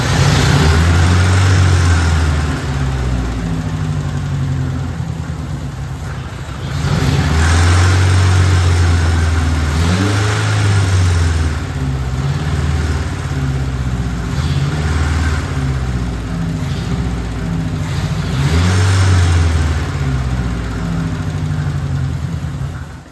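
An engine in a Suzuki Samurai build project runs loud and close with a rough low rumble, surging and easing in uneven swells that suggest revs rising and falling.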